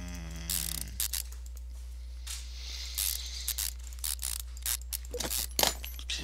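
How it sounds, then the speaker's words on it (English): A ratchet tightening bolts back onto a car in the game Car Mechanic Simulator 2015, heard as repeated rapid clicking bursts in short bursts over a constant low hum, fairly close and without talk. "crank the bolts back on"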